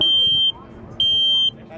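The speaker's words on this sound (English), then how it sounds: "That's the alarm." Smoke alarm sounding during a home fire drill: two long, loud, piercing electronic beeps, each about half a second, separated by a short gap, over faint background noise.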